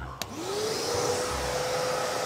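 A vacuum cleaner switches on with a click and spins up to a steady whining hum, running continuously and close by with no speech.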